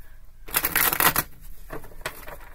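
A tarot deck is shuffled up close in a loud burst of riffling cards lasting under a second, followed by a couple of quieter card slides and taps.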